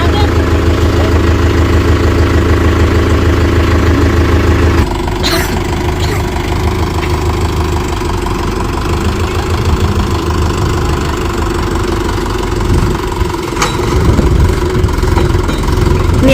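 A new tractor engine idles steadily and loudly close by on a village farm, a continuous low rumble with a brief change in tone partway through and faint voices in the background.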